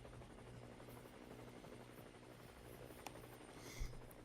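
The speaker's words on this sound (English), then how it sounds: "there is a helicopter flying over right now" A helicopter passing overhead in a survival video game, a steady low rotor drone holding evenly throughout against faint ambient noise, with a brief click near the end.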